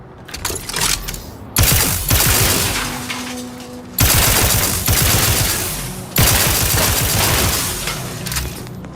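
A plasma gun firing in the sci-fi shooter The Outer Worlds 2: several loud, sharp discharges with a crackling energy decay, separated by rapid mechanical rattling, close and with no talk.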